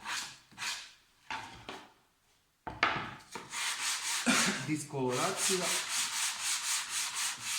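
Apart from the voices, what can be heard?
sanding wooden side panels by hand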